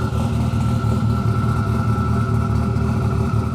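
A tuned 1100-horsepower Mitsubishi Evo engine idles loud and close, holding a steady, deep rumble with a rough, lumpy texture and no pauses.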